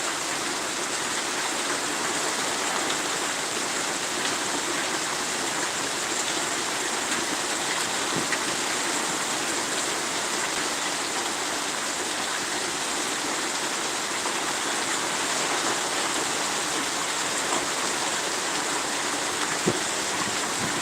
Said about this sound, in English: Well, it's been pouring down all day